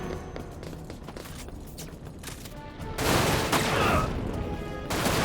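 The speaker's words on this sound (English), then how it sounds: "There's like a hover with a machine gun." A hovering enemy in Dirge of Cerberus: Final Fantasy VII fires its machine gun, first in rapid crackling bursts, then in a louder, sustained stream of shots near the end.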